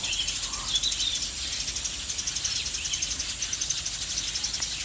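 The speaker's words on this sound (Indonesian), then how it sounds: "Itu ada kerak kerbau." Javan myna calls sound among other birds and a steady insect drone at a landfill birding site, with faint, short chirps against continuous high buzzing and no talk.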